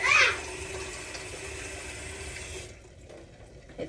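Water pours steadily into a cooking pot of gumbo for about two and a half seconds, a loud, close splashing stream that then stops, leaving a quiet room.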